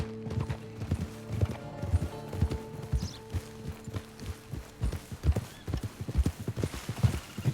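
A horse in Red Dead Redemption 2 trots along with steady, rhythmic clip-clop hoofbeats, close and prominent, accompanied by a faint tonal hum and a brief soft whinny.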